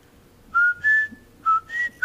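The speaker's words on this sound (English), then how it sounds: "So I had this little tune I'd whistle." A person whistles a short, simple tune alone, with clear pure notes in a few separated phrases, rising and falling, close and fairly loud against a quiet background.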